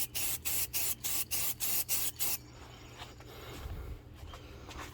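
Quick bursts from a spray paint can coating the rusty inside of motor halves from a 1977 Kmart box fan: about eight short, even, close hisses in steady rhythm, then a quiet workshop.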